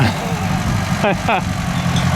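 A Ford 800 tractor engine runs at a steady, low rumble close by throughout, with a brief voice cutting in over it partway through.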